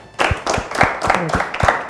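A studio audience on a T20 World Cup cricket talk show claps for the singer, a steady run of sharp, close hand claps in a loose rhythm, with a little talk mixed in.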